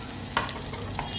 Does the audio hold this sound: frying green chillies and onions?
yes